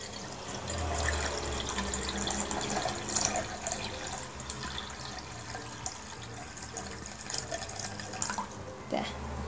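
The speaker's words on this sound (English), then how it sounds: "I'm going to fill it with water, but not too much, just about up to halfway." Water runs from a tap into a container with a gurgling, splashing fill, moderately quiet, with low background murmur.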